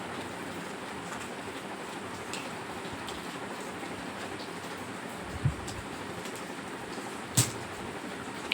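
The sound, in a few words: rain falling outside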